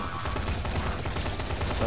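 Rapid machine gun fire in the zombie video game Dying Light rattles in a fast, continuous burst of loud, evenly spaced shots, with no speech over it.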